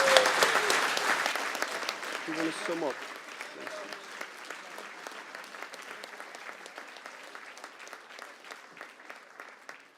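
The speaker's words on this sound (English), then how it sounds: "would you please give a round of applause to all of our candidates" A debate audience applauds the candidates, the clapping loud at first, then thinning to a scattering of individual claps that fade away, with a voice speaking briefly over the early applause.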